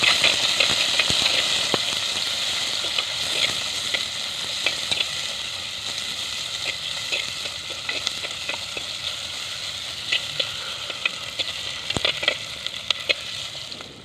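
Chopped onions sizzling and frying in a pan while being stirred in a village kitchen, a steady crackling hiss with occasional scraping taps of the spoon, no talk.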